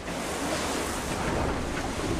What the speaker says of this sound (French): Là, 48 nœuds de vent.